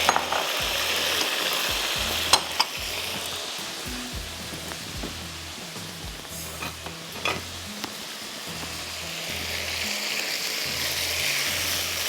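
Masala sizzling as it fries in a pan and is stirred with a spoon for curried meat qorma, a steady hiss broken by repeated scraping strokes and clinks against the pan, with no voices.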